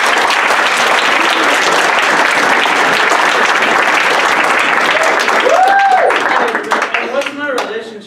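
A studio audience claps loudly and continuously in dense applause that thins into scattered claps near the end as voices and whoops rise over it.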